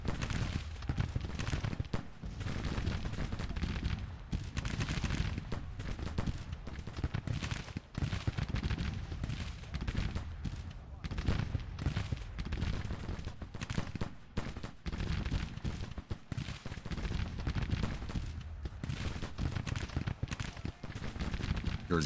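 Sharps rifle volleys crackle through a Civil War battle at Brashear City in the strategy game Grand Tactician, with dense, rapid repeated shots forming a continuous rolling din at low, distant-sounding volume.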